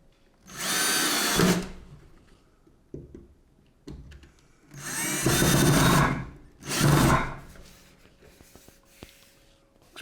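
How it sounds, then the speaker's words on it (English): A power drill drives screws in three loud, close bursts of whirring, each lasting about a second, separated by quiet handling noises and small clicks. "Let's get them placed first, and then we'll drill them in."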